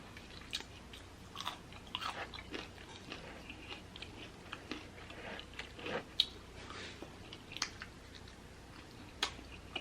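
Crunchy fried chicken wings are chewed up close, with irregular sharp crunches and soft wet bites scattered over a quiet background and no talking.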